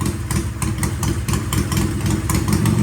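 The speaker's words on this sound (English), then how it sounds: "off idle very nicely. Turn the idle up just a little bit." A vintage British motorcycle engine idles steadily up close, its even, throbbing pulse running loud and alone without pause.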